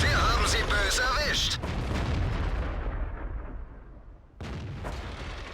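A heavy tank gun booms in World of Tanks, a loud blast that rolls off into a fading rumble before another burst of battle noise, with someone talking over the start.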